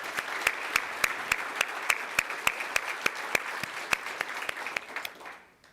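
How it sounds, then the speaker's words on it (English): Applause at a college athletics hall of fame ceremony in a large hall, with sustained, even clapping across the audience punctuated by sharp individual claps, ending abruptly into quiet. "Let's give one more huge round of applause for Dallas Moore."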